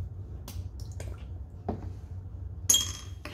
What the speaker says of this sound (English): I'm just gonna give that a rinse into my waste beaker